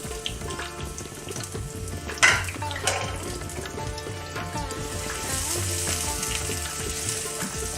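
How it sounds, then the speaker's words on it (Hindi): Two medium onions drop into hot desi ghee for goat trotter paya, a sharp crackling burst followed by a steady, fairly loud sizzle with occasional utensil clinks and stirring, no speech. "अब वो प्याज मैं इसमें डाल दूँगा"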